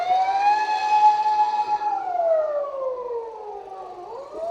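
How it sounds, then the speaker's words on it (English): Ambulance siren on a street in Uganda, a loud wailing tone that holds steady, then slides down and rises again, heard close with nothing else over it. "That siren of an ambulance, I need to give respect to it also."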